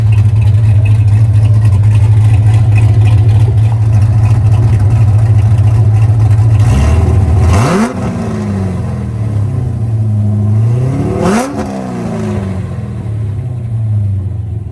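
An LS3-swapped C5 Corvette with exhaust cutouts drones loudly from inside the car, holding a deep steady rumble before two sharp revs rise and fall.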